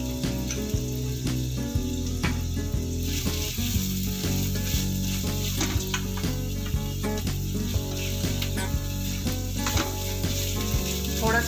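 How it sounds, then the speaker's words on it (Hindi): Chopped onions sizzle and fry in oil in a kadai for a mushroom stuffing, a steady loud crackling sizzle throughout with intermittent clinks and scraping of stirring, no talk. "ऑयल डालते हैं कढ़ाई में, ये मैंने ऑयल डाल दिया है। प्याज डाल देते हैं इसमें"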